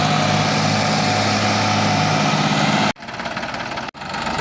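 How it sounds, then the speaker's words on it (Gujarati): A 4x4 tractor loaded with potatoes and stuck labors at full effort, its engine droning loud and close, then dropping out abruptly twice before picking back up. "આ ટ્રેક્ટર જોઈ લે બિચારું 4x4 ફૂલ તાકાત કરે"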